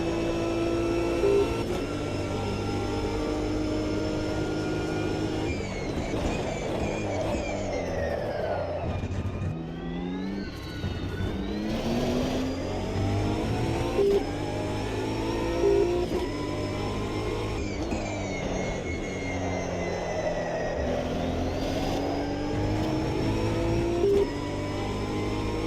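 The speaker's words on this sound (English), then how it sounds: "You can hear those tyres sliding though." Racing car in the video game AMS2 at the Monza circuit, a continuous engine drone rising and falling through gear changes, with tyres squealing and sliding through the corners, steady and close throughout.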